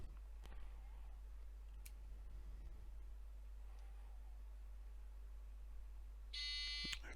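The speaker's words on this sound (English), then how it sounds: "the buzzer will continue to sound until you start to create descent and a climb, and the alarm will go out and the buzzer will stop" Radio altitude warning buzzer in a flight simulator with a Saitek/Logitech flight information panel: a brief, faint electronic tone near the end, over a constant low hum and a few soft clicks.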